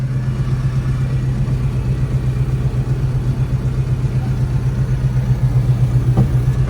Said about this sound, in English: Sorry, trying to drive a tractor with one hand.